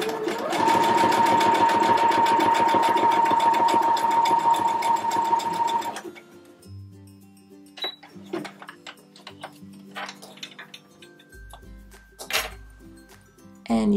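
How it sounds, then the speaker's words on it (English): A Brother CS6000i sewing machine stitches a zigzag, a fast rhythmic mechanical whir for about six seconds, then stops, followed by scattered clicks and handling taps. "So now let's try a zigzag stitch."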